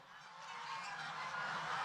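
Geese honking continuously at a goose farm keeping a new breed, a dense overlapping chorus of many birds, fairly close and steady throughout with no talk.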